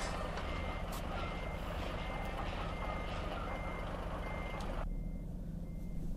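A truck in the video game Euro Truck Simulator 2 sounds regular reversing beeps over a loud, rumbling diesel engine. The engine noise drops away near the end while the evenly spaced beeps continue.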